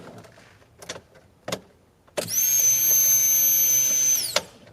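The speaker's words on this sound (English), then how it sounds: "So the pump kicked on." A Honda CRX fuel pump whirs on steadily for about two seconds with the key in accessory, a loud close electric hum preceded by a few small clicks and knocks, then cutting off.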